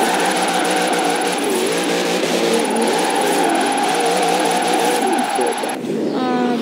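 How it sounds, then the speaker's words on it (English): Racing-game car engine from Forza Horizon 4 while drifting, a continuous loud whining drone wavering in pitch as the car slides, with a tonal game sound ending near the close. "And that's how not to drift round a very tight bend."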